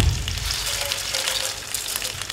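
Mustard seeds with chana dal and urad dal sizzle and crackle in hot oil while tempering for a spinach and egg pulao, a dense, steady frying hiss up close.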